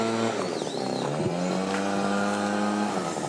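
A two-stroke, single-cylinder carbureted engine runs nearby with a buzzing, harmonic-rich drone that rises and falls slightly in pitch, steady and fairly close, with no talk.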